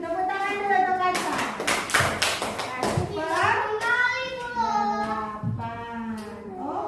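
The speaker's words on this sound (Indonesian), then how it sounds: "Tepuk tangan dulu untuk Kaca." Second-grade schoolchildren at an elementary school clapping together for a classmate, several quick bursts of close, lively applause mixed with children's voices and a teacher speaking.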